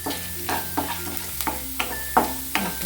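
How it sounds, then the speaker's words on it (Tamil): Urad dal sautés in a pan with a soft, quiet sizzle, broken by repeated scraping strokes of a spatula stirring the lentils at intervals. "உளுத்தம் பருப்பு இதை முதல்ல கொஞ்சம் வதக்கிடலாம்"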